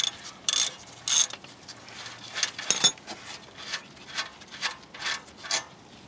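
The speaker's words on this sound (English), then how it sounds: "now get a 14mm socket and you should be able to undo these without much of a problem" A ratchet with a 14mm socket loosens the brake caliper bolts on a 2002 Nissan Maxima, producing close, repeated ratcheting clicks in short irregular bursts with a few louder clacks, and no talking.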